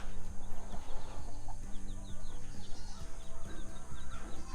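Homestead chickens clucking among ducks and their babies: soft, busy farmyard clucks and chirps, close and continuous, over a dense background of other animal sounds.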